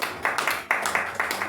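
A small audience applauds at a citizens' sponsorship rally for presidential candidate Laurent Gbagbo, giving a handful of rhythmic, fairly close claps in a steady beat for about a second and a half.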